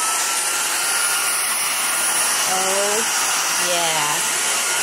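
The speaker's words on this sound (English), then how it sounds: "We're going to vacuum it." Vacuum cleaner running steadily through a home, a constant close whirring drone; a person speaks briefly over it.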